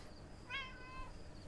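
Gila, a pet cat, gives a single short, faint meow, rising then falling, over low background hiss, with no talk.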